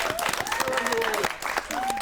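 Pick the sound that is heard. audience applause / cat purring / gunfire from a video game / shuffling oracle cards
audience applause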